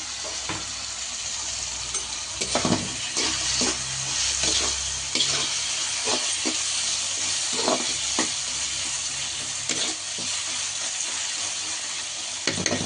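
Chopped tomato pieces with ginger, garlic and cashews fry in a pan with a continuous, fairly loud sizzle, broken by scattered clicks and scrapes of stirring throughout.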